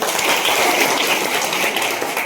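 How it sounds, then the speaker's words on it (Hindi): A crowd at an Indian Bharat Vikas Parishad event claps together in a steady, even burst of applause, moderately loud and continuous throughout. "तो आप सब लोग एक बार ताली हो जाए"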